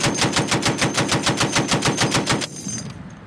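Marines firing a .50 caliber machine gun in Afghanistan, a close, loud burst of about fifteen evenly spaced heavy shots in rapid rhythm, ending abruptly with a short fading echo.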